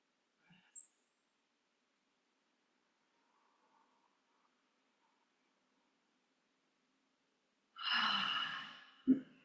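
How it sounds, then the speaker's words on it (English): Near-silence during a yoga class at a Coogee gym, broken by a faint soft intake of breath early on and then one long, audible deep exhale close to the microphone near the end. "just taking a few deeper breaths"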